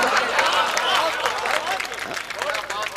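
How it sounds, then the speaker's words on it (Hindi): Audience at a mushaira poetry gathering in Sathi, Champaran, Bihar claps in a steady, moderately loud wash of applause mixed with crowd murmur for about three seconds. "आपकी तालियां कम थी, ये शेर जैसा था, उस पर आपने तालियां बहुत हल्की बजाई।"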